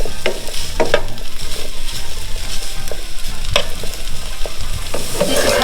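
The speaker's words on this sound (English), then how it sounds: "This is how you want the sausage to brown." Sausage browns in a pot over medium-high heat with no added oil, a loud steady sizzle broken by repeated stirring scrapes and clicks.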